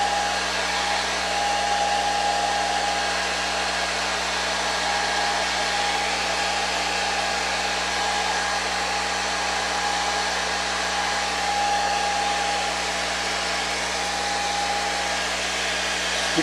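A handheld hair dryer blows steadily and evenly at a constant pitch throughout, close and unbroken, used on lightweight puppet-making materials at a craft table.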